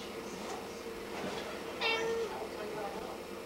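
Kittens meowing with their mother cat at a party, small faint mews over a steady room background, one slightly clearer meow near the middle.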